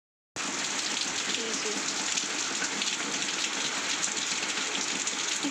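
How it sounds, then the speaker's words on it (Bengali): Fairly heavy morning rain falls in a continuous, even patter that starts abruptly after a brief silence and stays moderately soft and unbroken, with no voices. "আজকে বেশ ভালো বৃষ্টি হচ্ছে"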